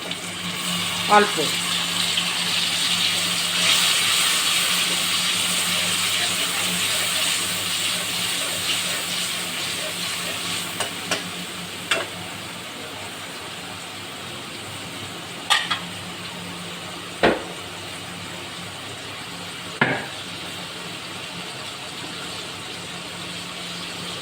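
Water poured into a hot pan while cooking cabbage with chicken gizzard and liver gives off a steady, fairly loud hiss and sizzle for over twenty seconds. A few sharp clatters break through, and a voice speaks briefly.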